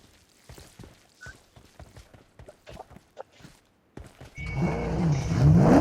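A vehicle engine in the mobile game BGMI (Battlegrounds Mobile India) starts after several seconds of footsteps and faint game sounds, then rises into a loud, steady motor drone that builds toward the end.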